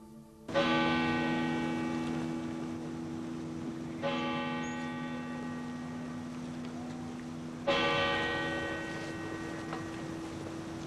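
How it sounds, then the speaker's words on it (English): A large church bell tolls slowly three times for a fallen police officer in Syracuse, New York, each strike ringing out with a long, humming decay. "Once again, the bells tolled for a fallen hero."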